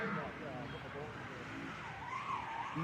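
A drift truck skids through a corner during a Class 1 qualifying run, its tires hissing in a sustained slide with the engine note rising and falling beneath a commentator's steady talk.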